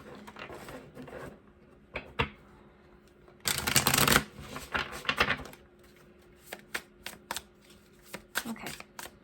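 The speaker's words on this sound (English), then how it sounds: "I feel like I need to shuffle once more." Tarot cards being shuffled at close range, a dense burst of riffling around the middle followed by scattered short flicks and taps of the deck, with quiet room tone between.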